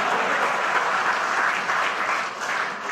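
Dense, continuous applause from a large crowd at a political party meeting, loud and steady with a slight dip near the end and no clear speech.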